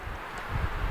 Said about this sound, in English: Wind is gusting suddenly